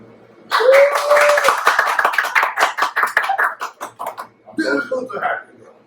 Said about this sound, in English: You can just clap.